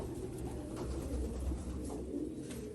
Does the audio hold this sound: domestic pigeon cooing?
yes